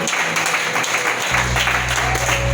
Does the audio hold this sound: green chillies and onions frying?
no